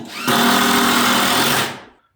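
A power drill drives a screw into a floor joist during a basement renovation, giving one loud, close, sustained whine lasting under two seconds before spinning down, with no talking.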